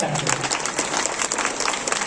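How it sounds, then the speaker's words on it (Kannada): An audience at a district science conference gives a loud burst of applause, dense rapid clapping filling the hall throughout, with a brief voice at the start. "ಒಂದು ಜೋರ ಚಪ್ಪಾಳೆ"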